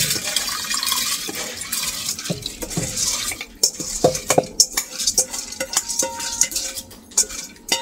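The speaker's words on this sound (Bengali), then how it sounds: "চাল ধুইয়া এই যে আনছি, চালটা দিয়ে দেই।" Washed rice for a Korean bean sprout rice dish is tipped into a cooking pot, making soft scraping, pattering and clinking kitchen sounds with light watery stirring, close by and without speech.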